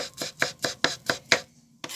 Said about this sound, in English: it's just a case of chopping it down the middle. A few chops like that